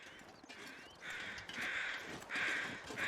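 Crows caw in a snowy wilderness in the video game The Long Dark. Several repeated harsh calls come from a moderate distance over faint ambient wind.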